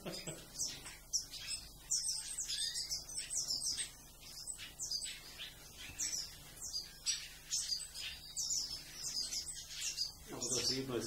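Siskins in a breeding aviary chirp and twitter busily and continuously, a dense high-pitched chorus of quick calls with a faint steady hum beneath.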